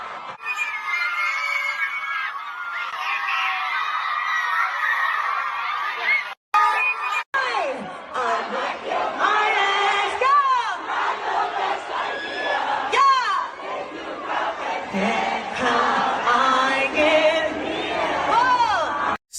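A huge stadium crowd at a sold-out MetLife concert sings along loudly in a dense, continuous roar, with shouts and screams rising above it. The sound is broken briefly by a couple of short cuts.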